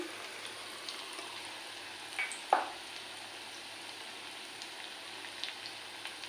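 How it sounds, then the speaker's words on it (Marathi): Moong dal bhaji deep-fry gently in oil over a low flame, a faint, even bubbling crackle with one soft clink partway through. "हे बघा लालसर भाजून घ्यायची जेवढे मावतील तेवढेच घालायचे"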